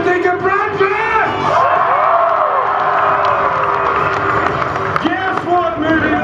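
A loud crowd at an FMX freestyle motocross show at Movie World cheers, whoops and yells continuously, with shouting voices rising and falling throughout.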